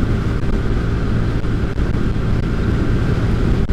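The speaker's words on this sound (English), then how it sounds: "Wind obviously is hitting you full in the body." Steady, loud wind roar buffets the microphone while riding a 2022 Hyosung GV300S motorcycle on a rough road on a windy day, a constant broadband rush with engine rumble underneath.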